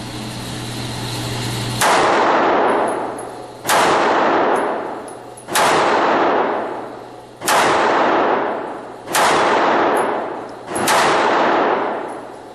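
Six loud, sharp pistol shots from a Sig P938 at an outdoor range, fired at a steady pace roughly two seconds apart, each with a ringing decay and no talk between them.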